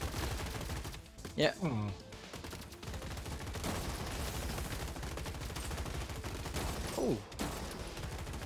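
Gunfire crackles in the video game Gladiabots, a steady busy patter of small shots under a constant game soundscape, while a person briefly murmurs a few short reactions.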